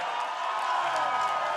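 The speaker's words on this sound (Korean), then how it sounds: "노래가 끝나자 기립박수도 터져 나옵니다." Standing ovation from guests at a state dinner right after a song, with a broad wash of applause and crowd noise that stays fairly steady and moderately faint.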